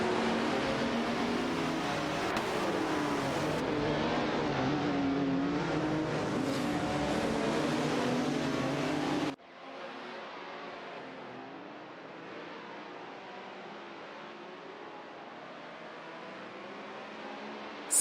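Race cars in a video game, including a Porsche 936 and a Renault Alpine 442B, give a steady engine drone with revving, loud at first and then abruptly quieter and more muffled partway through.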